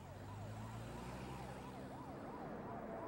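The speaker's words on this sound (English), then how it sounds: "Hearing the sound of sirens" Emergency vehicle sirens wail in a steady rising-and-falling sweep near a flooded canal rescue scene, moderately distant over a low engine rumble and road noise, with no talking.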